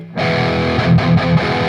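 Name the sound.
electric guitar palm muted chord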